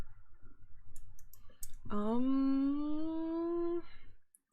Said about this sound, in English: That's my keyboard you're walking on.